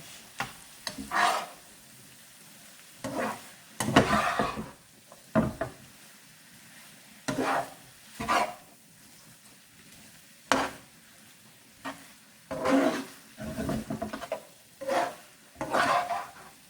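A spoon scrapes and stirs spinach through egg stew in a pot, with irregular bursts of clattering against the pot sides between quieter stretches of faint sizzling.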